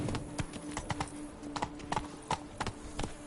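Hooves of Geralt's horse Roach clop steadily on hard ground in The Witcher 3, a close, even trotting rhythm of crisp knocks over a faint low hum.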